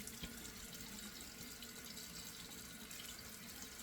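Warm water runs steadily from a bathroom tap into a sink, a close, continuous broadband hiss with faint splashing as hands pass under the stream during a wet shave routine, face lathering with stick soap.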